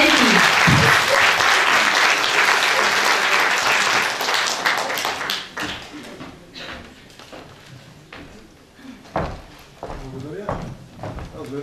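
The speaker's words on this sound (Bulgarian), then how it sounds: "Аплодисменти!" Audience applause at an anniversary concert of a community cultural centre, a dense burst of clapping for about five seconds that thins into scattered claps, shuffling and knocks while people talk.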